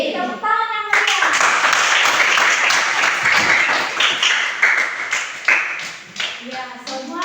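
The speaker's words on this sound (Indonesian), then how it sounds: "Tepuk tangan yang meriah." A classroom of students claps for a presenting group, a lively burst of hand-clapping that swells and then tapers off in uneven waves, with a teacher's voice heard at the start and end.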